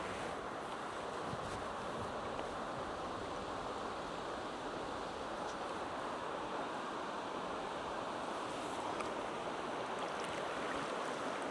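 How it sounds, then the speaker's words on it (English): Steady wind and lapping water around a kayak on shallow water during trout fishing, a continuous broad rush with no voices. "This wind keeps moving my kayak around."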